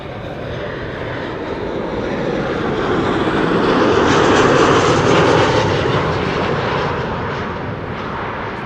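A Qatar Boeing 777 jet arrives at the airport, its engine roar building from a sustained rumble to a loud peak midway, then easing off again, with no voices over it.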